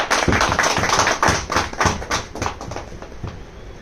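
An audience at a product training session in Noida claps for a Himalayan Berry product. The claps form a close, loud burst with uneven pulses that thin out toward the end.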